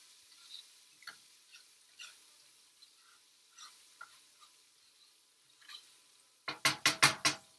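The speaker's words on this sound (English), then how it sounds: "Just let that saute just a few seconds." Cucuzza squash sautéing in a pan gives faint scattered sizzles and crackles, then a quick run of loud utensil scrapes and clanks near the end.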